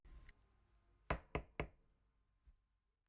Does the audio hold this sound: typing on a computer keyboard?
no